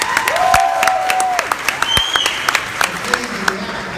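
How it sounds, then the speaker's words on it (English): Scattered applause from a political convention audience, a Texas GOP delegation gathering, with sparse claps over a talking voice and a brief whoop; modest and fairly close, thinning toward the end. "Alright, so by a round of applause for those that saw it"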